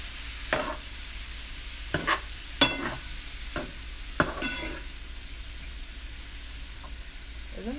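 Egg fries in a pan for cauliflower stir-fried rice, a soft background sizzle broken by several sharp scraping strokes of a utensil against the pan in the first half, then quieter sizzling with one light scrape near the end.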